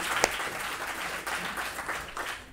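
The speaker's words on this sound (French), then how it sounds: "Je pense qu'on peut les applaudir." Audience applause at a French academic event: a moderate, fairly close patter of many hands clapping steadily for a couple of seconds, with one sharper clap standing out near the start.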